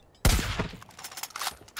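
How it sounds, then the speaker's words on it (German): A single loud gunshot from a firearm in the video game Far Cry 5 cracks sharply at close range, its echo decaying over the following second amid faint game ambience. "Schuss."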